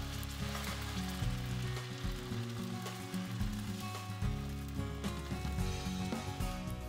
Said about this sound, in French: une fois que l'huile a chauffé, on peut verser notre mélange d'œufs